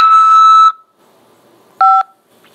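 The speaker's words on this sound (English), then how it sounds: "press 5 to accept this call" Two bursts of touch-tone keypad beeps on a telephone line during an automated prison collect-call prompt, a long steady tone followed by a shorter one after a quiet gap.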